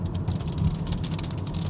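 Rain patters steadily on a BMW car while it drives, a dense hiss of drops with a low road rumble underneath, continuous and moderately loud, with no talk.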